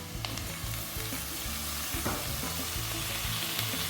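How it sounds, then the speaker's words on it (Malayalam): Chopped tomatoes hit frying chicken biryani masala in a pan, giving a close, continuous sizzle with stirring scrapes and soft clatter over four seconds, with no voices. "നമുക്ക് അരിഞ്ഞു വെച്ച 2 തക്കാളി ചേർത്ത് കൊടുക്കാം"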